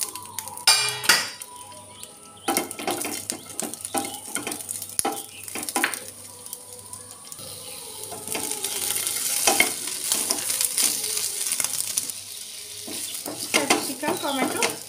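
Capsicum fries in a little oil in a pan with a loud, busy sizzle. Frequent scraping and clattering of a spoon stirring against the pan runs throughout, and a faint voice may surface briefly.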